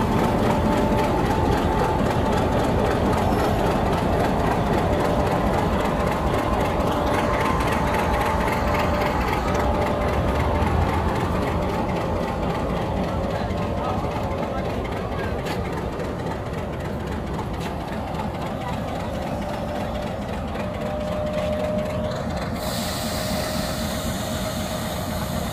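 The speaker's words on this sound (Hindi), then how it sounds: "HBU-20 का साउंड अमेजिंग" An HBU-20 diesel locomotive at Multan Cantt railway station, heard as a continuous, loud engine drone with a steady mechanical rattle and a faint tonal whine throughout, close by and without talk.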